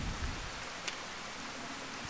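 Stormy rain in the game Fallout: Tale of Two Wastelands, a soft, steady hiss of falling rain with scattered drop patters and one brief brighter splash.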